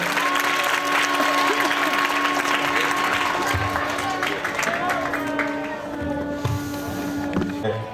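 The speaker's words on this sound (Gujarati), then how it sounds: "જોરદાર તાળીથી આપણે વધાવતા જઈશું." An audience at a community ceremony applauds continuously as guests are welcomed, a dense, sustained clapping with a steady tone running through it and a voice speaking over the crowd.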